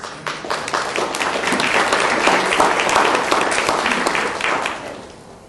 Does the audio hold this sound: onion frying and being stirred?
no